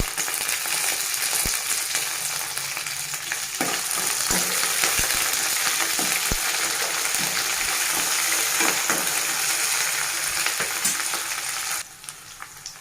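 Curry leaves frying in a pan for drumstick sambar give a loud, continuous sizzle with scattered crackles and spoon taps, quieting abruptly near the end.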